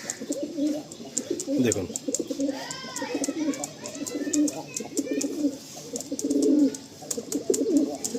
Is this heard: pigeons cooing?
yes